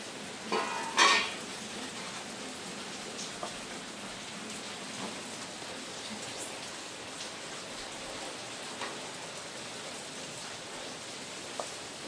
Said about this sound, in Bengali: মাছ ভাজা এই পাশ হয়ে গেছে, এখন পাতা উল্টেই দেবো